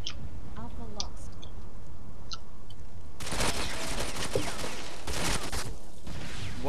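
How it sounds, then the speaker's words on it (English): Rapid automatic gunfire from the Ghost Recon video game bursts in after a quieter opening with faint clicks, then continues as dense, loud bursts with brief gaps until the end. "Why did my gun stop shooting?"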